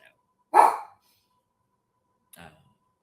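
Dogs bark at a door indoors: one sharp, loud bark, then quiet, then a shorter, fainter bark a couple of seconds later.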